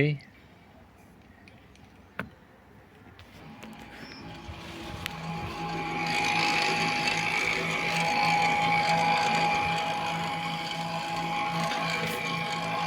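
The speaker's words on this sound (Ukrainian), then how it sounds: "І ось ми чуємо, що в нас закручуються наші циліндрики." Mechanical whirring and clicking builds up after a few seconds as an Audi A6's rear electric brake caliper pistons retract, a steady motorized grinding hum close by, with a faint high tone.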